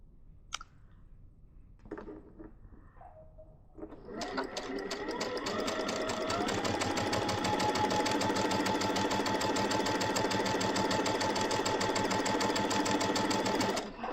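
A sewing machine quilts a Churn Dash table topper. A few faint clicks and handling sounds come first, then the motor starts at about four seconds and runs in a steady, rapid rattling hum to the end.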